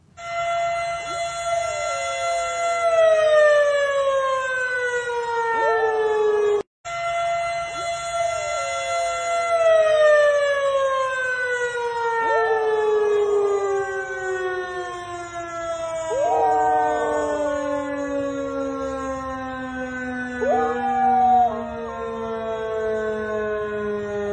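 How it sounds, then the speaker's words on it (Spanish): A seismic alarm siren at the Navojoa municipal market wails loudly and continuously in long falling sweeps, while a dog howls along in repeated rising-and-falling cries woven through the siren. "una perrita de nombre Cleo, cantó al son de la alarma sísmica que se ubica en el mercado municipal de Navojoa"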